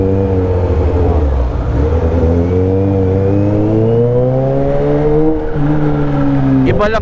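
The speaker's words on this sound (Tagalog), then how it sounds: "Iba lang talaga ang iba lang talaga tunog nitong ZH2." A 2021 Kawasaki ZH2 motorcycle engine drones and climbs steadily in pitch as it revs up, loud and close throughout, with a sharp burst near the end.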